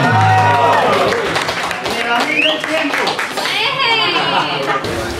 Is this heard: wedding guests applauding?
yes